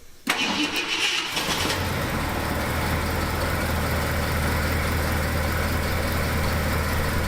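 An old Ford F100 truck engine, abandoned for 20 years, cranks and catches with a brief sputter, then settles into a steady, rumbling idle that continues evenly to the end.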